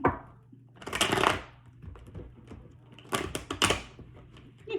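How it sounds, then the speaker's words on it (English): A tarot card deck is shuffled in two quick riffling bursts separated by softer taps and card handling, close and crisp. "Lord, the shuffle is a struggle. I hate a struggly shuffle."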